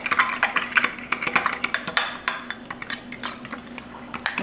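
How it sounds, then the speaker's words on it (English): A spoon clinks and scrapes steadily against a bowl while garlic powder and dill are stirred into a creamy pickle sauce, a quick run of close metallic taps and scrapes with no talk. "Let's mix that together really well."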